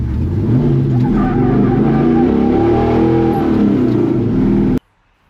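An LS-swapped K10 truck running a 5.3 liter engine from a 1999 Silverado with Holley Terminator X revs hard and loud with rising, falling engine tones and tire squeal, then cuts off abruptly near the end.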